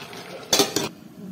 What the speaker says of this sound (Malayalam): നമുക്കിതൊന്ന് ഇളക്കി അടച്ചു വെക്കാം.